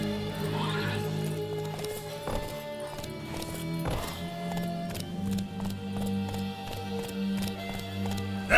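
Roach, a horse in The Witcher 3 video game, clip-clops at a steady galloping rhythm, hooves thudding repeatedly and fairly close over a game music and ambience bed, with a brief whinny near the start.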